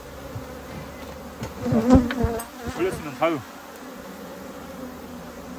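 Honeybees buzz around an opened beehive during an urban rooftop hive expansion, a constant close droning hum, with someone speaking Korean briefly over it.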